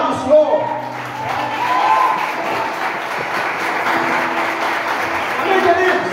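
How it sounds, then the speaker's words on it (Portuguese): A church congregation applauds after a closing blessing, a steady wash of clapping running the whole stretch with faint tonal sounds and voices mixed in beneath. "aplaude o Senhor"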